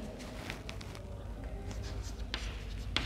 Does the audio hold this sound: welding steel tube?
no